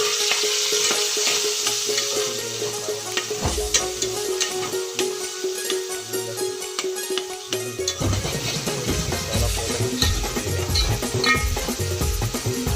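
Tomatoes and village chillies frying in a hot pan, a continuous sizzle with stirring scrapes and occasional clinks of utensils, growing busier and louder partway through, with no talking.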